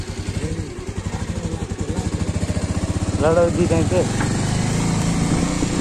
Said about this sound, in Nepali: आज बाइक म चलाएर जान्छु